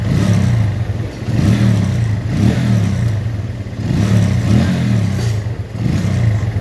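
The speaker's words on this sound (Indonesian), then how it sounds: "Meskipun lampu dinyalakan sekarang nih ya, tidak mati mesinnya." Honda Megapro motorcycle engine idling steadily with the headlight switched on, a close, continuous low rumble with slight periodic swells and no voices.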